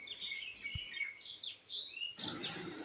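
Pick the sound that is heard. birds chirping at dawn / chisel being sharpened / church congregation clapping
birds chirping at dawn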